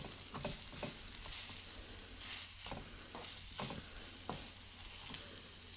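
Spices roasting in a hot pan on a gas flame while a spoon stirs them, a quiet steady sizzle broken by repeated scraping strokes at an uneven rhythm, with no one speaking.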